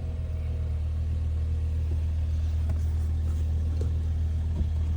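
A crash-damaged Mini Clubman Cooper S engine idling, a steady low rumble close by with a faint higher hum on top and a couple of soft clicks, no voices.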